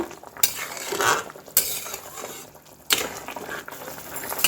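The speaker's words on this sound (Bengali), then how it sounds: "তরকারিটা এদিকে ফুটেও গেছে একটু নেড়ে দেব" Vegetable omelette curry with potatoes being stirred in a pot, a few close scraping spoon strokes against the metal in uneven bursts with a soft bubbling simmer underneath.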